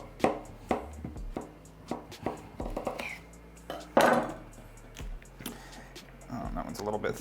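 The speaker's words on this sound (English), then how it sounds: "So I'm going to slice them both lengthwise." A knife slices zucchini lengthwise on a cutting board. Several sharp, separate chops and thuds come close and moderately loud, with a person talking between the cuts.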